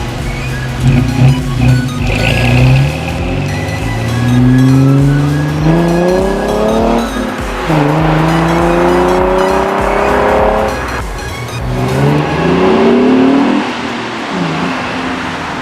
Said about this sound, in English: I hope you guys enjoyed those couple exhaust little clips that I got of the car